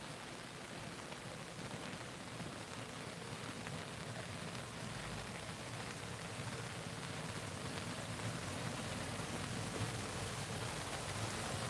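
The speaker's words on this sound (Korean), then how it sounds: "자 비가 보슬보슬 잘 뭐 알맞게 비가 오는데" Light drizzle falls outdoors beside a farm irrigation channel and rice seedling trays, a soft, steady hiss of rain lasting throughout at an even level with no voices.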